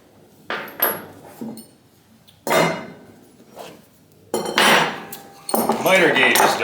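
Metal hammer blows on a bent part of a 1953 Delta Unisaw table saw under restoration: several separate sharp, ringing strikes at uneven intervals, close and loud in a workshop.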